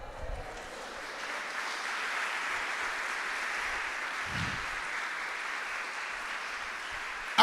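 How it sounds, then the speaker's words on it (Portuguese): Sustained applause from a church congregation, a steady dense wash of clapping that holds evenly for several seconds without any talking. "Dê um glória a Deus e uma salva de palmas."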